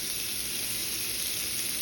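Stuffed chicken breast filled with cheese, garlic and mushroom sizzles on a grill heated to just under medium, giving a steady, dense hiss with no voices.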